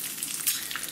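Crucian carp frying in oil in a pan, a steady bright hiss and crackle of sizzling with small pops, close and continuous.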